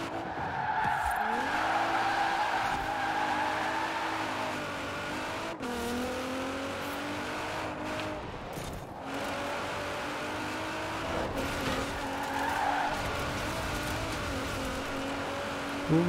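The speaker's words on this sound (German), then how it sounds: "Mit dem Allrad um die Kurve driften." An all-wheel-drive car drifting round a corner in Forza Horizon 4: a loud, sustained tyre squeal over a droning engine whose pitch rises and falls through the slide, with a few brief thumps along the way.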